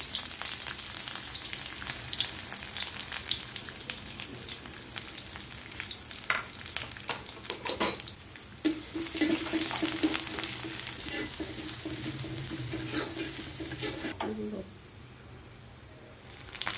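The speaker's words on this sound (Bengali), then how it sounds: "এখন দিয়ে দিলাম পেঁয়াজ কুচি" Chopped onion fries in a pan with bay leaves, cinnamon, cardamom and cloves, a continuous crackling sizzle with scattered stirring clicks that fades quieter near the end.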